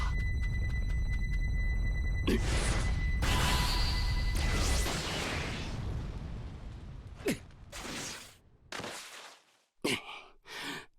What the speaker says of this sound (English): An extreme flashbang.